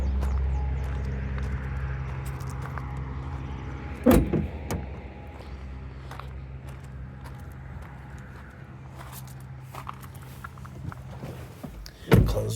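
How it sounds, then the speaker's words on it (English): Hood and driver's door of a 2016 Land Rover Discovery shut, two sharp solid thumps several seconds apart, one near the middle and one at the end, over a quiet idle hum. "Close the driver's door."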